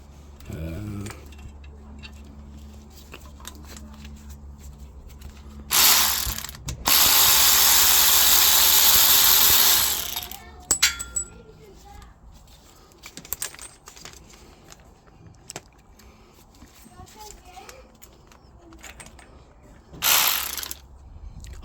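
A ratchet clicks in quick bursts while bolts are undone during the stripping of a Mk2F Polo engine, with one long, loud run of ratcheting, a shorter burst before it and another near the end, amid quieter workshop noise.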